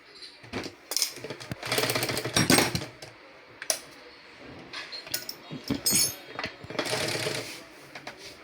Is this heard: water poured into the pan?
no